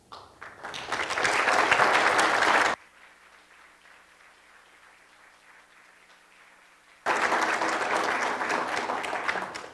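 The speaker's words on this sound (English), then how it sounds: "now would be a good time to share your thoughts with some applause" An audience claps loudly at a District 35 Republican primary debate in Idaho. A long, dense burst fades into a quiet lull, then a second round of sustained clapping swells back to full strength.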